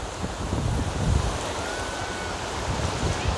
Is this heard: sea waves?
yes